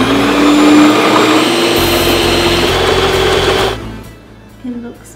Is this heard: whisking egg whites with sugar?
yes